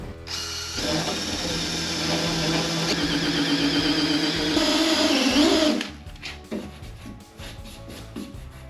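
A ratcheting tap wrench cuts threads into a battery cutoff handle, making a loud, continuous close-up mechanical grinding and clicking that stops suddenly, followed by a few scattered handling knocks.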